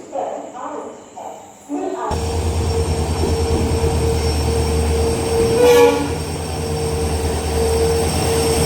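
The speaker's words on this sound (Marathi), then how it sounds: "तुतारी ट्रेन तर गेली." The Tutari train passes through a railway station with a loud, steady rumble of wheels and carriages and a horn sounding midway, after brief voices talking at the start.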